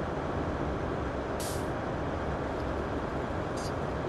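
In Train Sim World, a train brake gives off a short sharp air hiss amid a continuous low rumble of the moving train. A second, fainter hiss follows a couple of seconds later.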